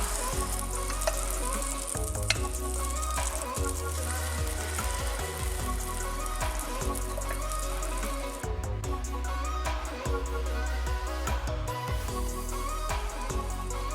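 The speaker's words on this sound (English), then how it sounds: "Ooh, and now it's sizzling." Steady, crackling sizzle of pancake batter frying in a hot pan, continuous and fairly close, with occasional faint clinks and no talking.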